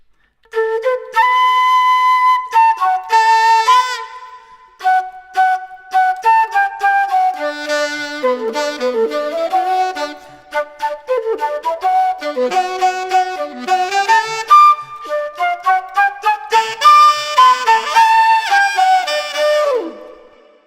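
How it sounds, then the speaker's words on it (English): Indie soul track in which a flute solo carries the melody while saxophone stabs punctuate between phrases, playing loud and continuous with no talking. "we instead decided to do the flute solo and then have the sax punctuate"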